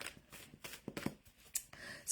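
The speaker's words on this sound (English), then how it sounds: "Okay, Beck, I'm shuffling my little arms off." Tarot cards shuffled by hand in quick, soft riffling bursts, close and quiet, repeating in an uneven rhythm, with no talking.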